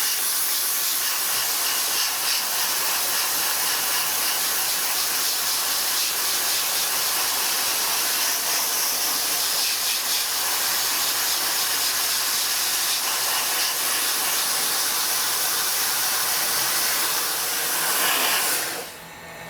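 A dry ice blasting gun sprays against the undercarriage of an E36 BMW M3, stripping coating in a loud, continuous close-up hiss of compressed air that holds steady for nearly twenty seconds before cutting off, no voices.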